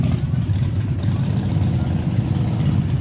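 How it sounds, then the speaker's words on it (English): Harley motorcycle engines rumbling loudly nearby at a veterans charity ride gathering, a steady deep idle throb with no talk over it. "these Harleys sure are loud"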